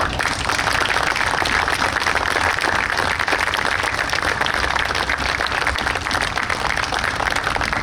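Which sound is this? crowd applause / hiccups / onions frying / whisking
crowd applause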